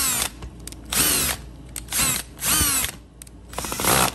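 A drill drives a Crescent Apex screw bit into a lock in short whirring bursts, about five spins with pauses between them, close and fairly loud, with no talk.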